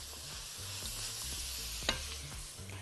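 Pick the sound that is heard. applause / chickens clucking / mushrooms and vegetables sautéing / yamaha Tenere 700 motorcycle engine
mushrooms and vegetables sautéing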